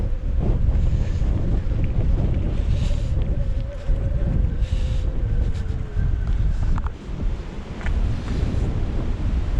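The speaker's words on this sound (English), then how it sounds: "it's quite enjoyable getting out on an e-bike in the wind" Strong wind buffets the microphone during an e-bike ride along a golf course, a loud continuous low roar with gusty swells and faint mechanical whine underneath.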